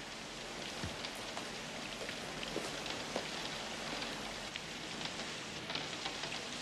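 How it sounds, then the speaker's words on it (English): Steady, soft rain patters outside with faint scattered drops throughout, quiet and continuous without voices. "It's just the rain."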